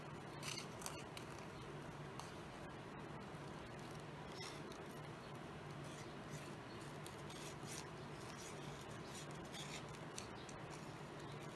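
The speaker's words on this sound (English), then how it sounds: "I'm just going to go in and cut this out" Scissors cutting out a coloring page, a close, continuous papery snipping and rustle with faint irregular clicks of the blades, steady throughout.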